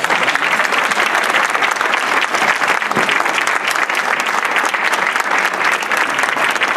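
A church congregation bursts into dense, sustained applause, many hands clapping loudly and steadily for several seconds with no pause.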